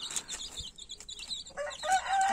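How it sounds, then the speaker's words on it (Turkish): Three-day-old turkey chicks peep in rapid, high-pitched chirps, overlapping steadily at close range. "Hint civcivleri nokta kadar doğuyor"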